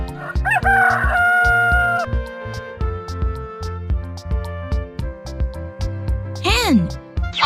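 A rooster crows loudly and close, one long rising-and-falling call at the start, with further short calls and clucks over a steady musical backing; another crow rises near the end.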